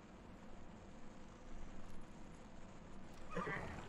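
Horse whinnying with hoof clip-clop in the samurai action game Ghost of Tsushima, a steady hoofbeat rhythm running throughout with a short neigh near the end.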